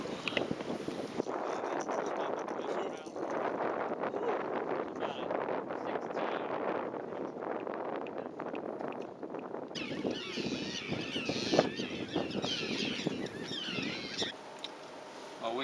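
Strong wind buffets the microphone while fishing from a boat, a continuous rushing roar with water sounds and hull noise close by.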